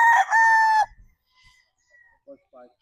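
An RB stag, a pure Paul Spark Gray gamecock, gives one loud, close crow that stops abruptly, followed by faint clucks and soft farm sounds.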